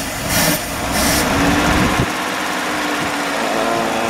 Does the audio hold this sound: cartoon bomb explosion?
no